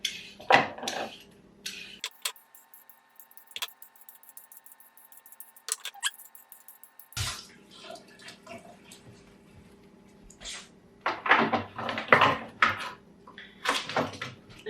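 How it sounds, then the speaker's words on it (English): Carrots are peeled with a peeler in a kitchen, producing short, scattered scraping bursts close by, mixed with occasional clinks of utensils and a steady faint hum during a quieter middle stretch. "So I'm gonna peel these carrots now."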